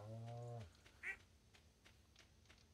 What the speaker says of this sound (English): Hey there, little duck.